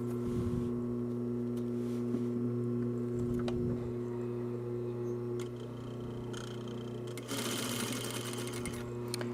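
A sewing machine stitches a cargo pocket for a shoulder bag, a steady close motor hum with rhythmic needle chatter that runs throughout and briefly intensifies near the end.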